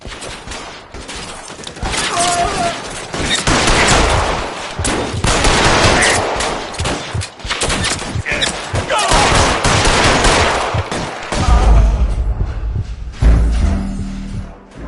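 Rapid bursts of gunfire fill a shootout in the video game L.A. Noire, dense volleys and single shots crackling loudly with heavy thumps near the end.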